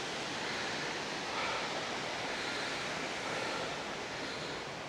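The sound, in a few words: river flowing below a waterfall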